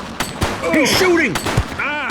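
Gunfire from a shooter in the video game The Precinct, several loud sharp bursts spread across a couple of seconds, mixed with voices shouting and other game sounds.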